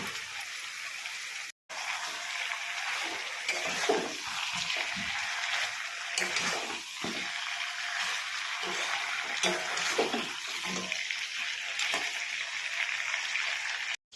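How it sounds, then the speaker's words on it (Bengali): Pieces of chicken sautéing in hot oil in a pan, with a steady dense sizzle and occasional scraping stirs throughout and a brief break near the start. "এবার বেশ কিছুক্ষণ ধরে কষে নেব চিকেনটাকে।"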